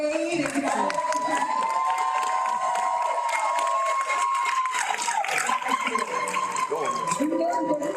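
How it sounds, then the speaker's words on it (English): A graduation audience at an adult education and literacy ceremony claps and cheers continuously, with shouts and whoops riding over the dense applause and a voice audible within the crowd noise. "Let's clap like you mean it, and let's make some noise like all the bills are paid."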